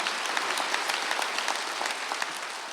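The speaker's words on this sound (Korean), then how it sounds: "박수하면서" Congregation applauding during a Korean church Sunday worship service, a steady dense wash of many hands clapping together, loud and continuous from start to finish with no talk over it.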